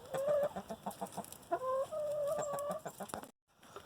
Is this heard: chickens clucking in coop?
yes